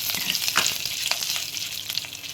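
Dried buttermilk chillies and dried red chillies sizzle in hot oil, a steady close frying hiss broken by occasional sharp crackles and pops.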